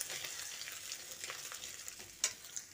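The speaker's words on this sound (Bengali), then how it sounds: "হিং আর আদা বাটাটা দিয়ে কয়েক সেকেন্ড ভেজে নিচ্ছি।" Asafoetida and ginger paste frying in oil, a soft crackling sizzle with small pops and stirring scrapes, fairly faint and close, with one sharper pop near the end.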